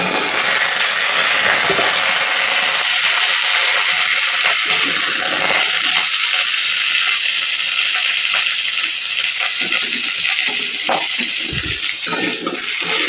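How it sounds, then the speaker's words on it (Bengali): Potato pieces fry in hot oil with bay leaf, cinnamon and cumin seeds. The sizzle is steady and loud throughout, with occasional stirring clatter and no voices. "এবার এখানে তেজপাতা, দারচিনি আর জিরে ফোড়ন দিয়ে দিয়েছি। আলুটাকে ভেজে নেবো এবার।"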